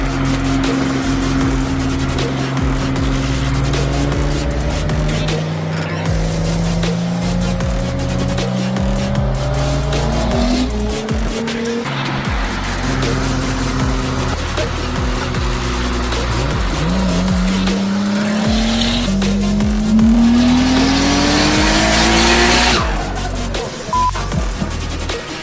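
A Nissan Stagea C34 with an RB25DET engine held at full throttle on a dyno, a loud, continuous engine roar whose pitch climbs steadily and then rises again before cutting back near the end, with no talking.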